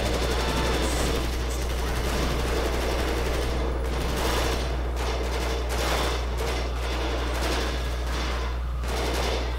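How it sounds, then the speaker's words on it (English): Dense, continuous gunfire from a video game, rapid shots blending into a loud, sustained barrage with no real pauses, sitting over a steady low hum. "Fucking people shooting everywhere."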